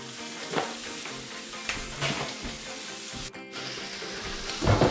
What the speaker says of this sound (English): the mushrooms and the bacon roasting quite nicely